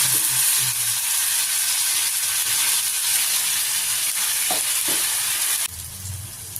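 Pointed gourd fritters coated in batter fry in hot oil, a steady bubbling sizzle that stays constant, then drops noticeably quieter near the end, with no talking.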